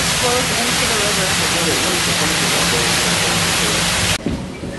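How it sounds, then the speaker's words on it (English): Water from the sacred spring at the Roman Baths in Bath flows in a steady, loud broadband rush that cuts off abruptly near the end, leaving quieter room tone. "You hear the flow of the water. This is from the sacred spring,"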